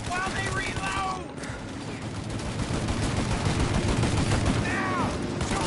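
Sustained shootout gunfire in the Mafia Definitive Edition video game, dense overlapping automatic bursts that stay loud and continuous, with faint game voices shouting in the background.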